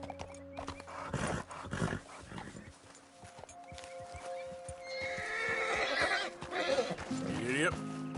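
Horse sounds from the video game Red Dead Redemption 2, with whinnies and snorts set against clip-clopping hooves and game music; someone speaks briefly over them.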